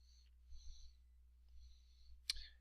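Computer mouse clicks while browsing a WordPress page, a few soft, close clicks spaced apart, with one sharper, louder click near the end over a quiet room hum.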